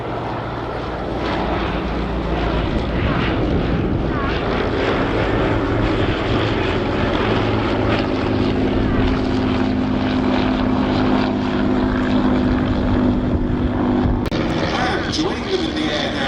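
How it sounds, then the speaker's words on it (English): WWI biplanes, including an Avro 504 with its rotary engine, fly at a Shuttleworth air display, a loud, continuous propeller drone that hardly changes in level, with a voice commentating over it. "Joining them in the air now, our first rotary engine action today from the Avro 504"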